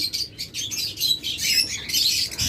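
A pair of double factor yuing budgerigars chirp and tweet steadily at close range, bright busy calls filling the whole stretch with no talking.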